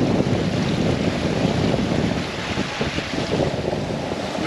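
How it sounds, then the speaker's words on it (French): Steady wind of about 17 knots rushes loudly across the microphone while water splashes and churns against a sailboat moving at 8 knots, with no voices. "Il y a 17 nœuds de vent et on marche à 8 nœuds."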